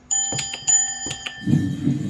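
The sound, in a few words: homemade elevator bell chime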